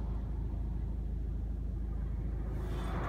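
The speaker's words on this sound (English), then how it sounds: "the wind is shaking it pretty violently" Strong wind buffets a parked car beside a roadside in the Faroe Islands, heard from inside as a steady, heavy low rumble of gusts pressing on the body, continuous and loud with a brighter hiss rising near the end.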